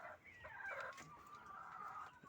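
Layer chickens of the RTL breed clucking close by, a continuous stream of overlapping calls and short squawks with no talking.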